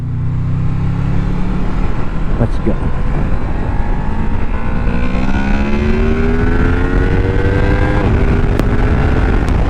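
A Honda VFR800FE motorcycle accelerates hard at high revs, its engine note climbing steadily through a quick-shifter gear change from second to third, loud and close with a rider speaking briefly over the rising drone.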